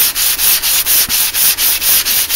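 A belt grinder fitted with a Scotch-Brite belt hisses loudly while finishing a knife blade, with a steady rhythmic pulsing roughly every quarter second from the belt seam passing.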